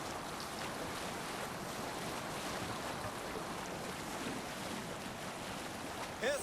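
Longship sailing across waves in the video game Assassin's Creed Valhalla, heard as a continuous broad rush of water and wind at steady loudness, with no clear talking.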